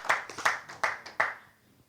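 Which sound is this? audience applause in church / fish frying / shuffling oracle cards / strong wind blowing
audience applause in church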